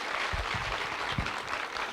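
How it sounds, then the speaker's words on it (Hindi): A brief, faint burst of clapping from an audience at a direct-selling business talk, applauding a presenter. "तो एक बार समीर सर के लिए जोरदार ताली बजा लेते हैं।"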